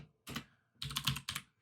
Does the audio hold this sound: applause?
no